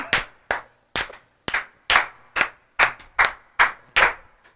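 Slow, deliberate hand claps, about eleven sharp evenly spaced strikes, close and fairly loud with no talking.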